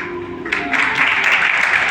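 Audience applause at a school toppers' award ceremony swells quickly into a dense, steady clatter of many hands, fairly close and loud, after a brief moment of quieter sound.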